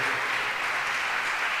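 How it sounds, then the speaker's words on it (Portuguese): A church congregation applauding during a sermon, a brief burst of dense, loud, steady clapping from many hands that fills the room without pause. "Pode aplaudir ao Senhor."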